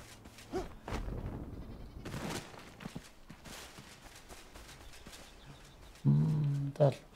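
A goat in the video game Enshrouded gives two short, loud bleats near the end, close by, after quieter game noise and scattered footsteps.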